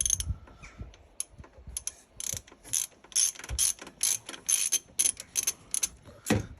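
Ratchet clicking in quick bursts as the turbo inlet pipe is removed from a 27-year-old Land Rover Defender 300tdi to reach the starter motor, close and crisp with short pauses between strokes.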